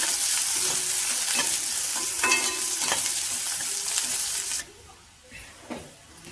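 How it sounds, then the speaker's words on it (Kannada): Onion and garlic fry in hot oil for a Karnataka-style holige saaru, a loud steady sizzle with stirring scrapes that suddenly quietens near the end, leaving faint frying. "ಇವಾಗ ಈರುಳ್ಳಿ ಮತ್ತು ಬೆಳ್ಳುಳ್ಳಿನ ಫ್ರೈ ಮಾಡ್ಕೊಳ್ತೀನಿ"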